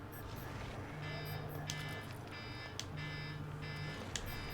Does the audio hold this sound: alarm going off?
yes